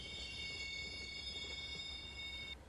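A freight train runs on the Cajon Subdivision near Barstow in the Run 8 Train Simulator video game, a steady rumble of rolling cars with a high metallic wheel squeal that cuts off near the end.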